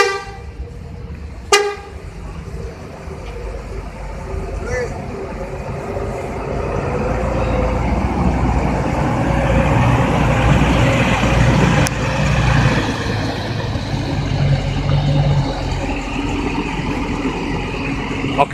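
An Eka intercity bus pulls in at a bus body workshop in Cimahi, giving a sharp horn toot early on, then its engine rumbles steadily and grows louder as it arrives nearby.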